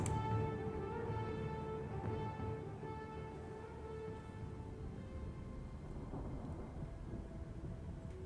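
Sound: thunderstorm around Rivendell in Lord of the Rings: Conquest video game

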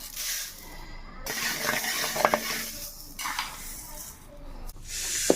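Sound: dry roasting mustard seeds in a pan

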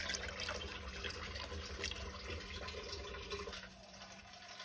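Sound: water running from a tap

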